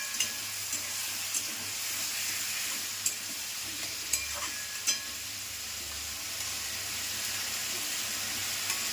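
Mutton with papaya leaves sautéing in a pan gives a steady, close sizzle throughout, broken by a few sharp clinks of a stirring utensil, with no voices.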